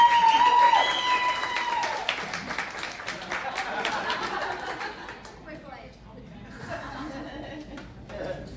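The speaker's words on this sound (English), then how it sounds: "Y'all give a big round of applause for Jessica coming up here and doing her thi" Audience at an East Texas songwriter showcase claps and chuckles as a performer comes up. Applause is loudest at the start and thins out, with laughter and voices mixed in before it quiets to murmurs.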